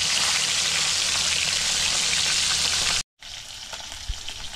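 Fresh fish fries in hot oil with a dense, continuous sizzle and crackle, close and steady, briefly cutting out before the spattering resumes a little softer.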